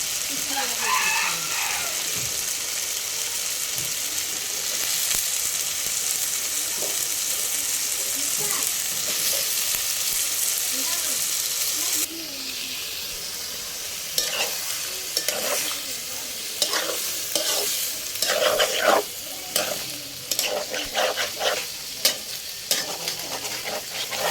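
Tripe hits hot oil with spiced masala and is fried and stirred, a bright steady sizzle with scraping stir strokes growing more frequent later, a rooster crowing faintly in the distance.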